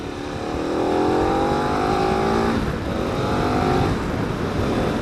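A KTM SuperAdventure S adventure motorcycle accelerates hard, its engine note climbing loud and close through rising revs, with a shift partway through and the pull continuing under heavy wind rush.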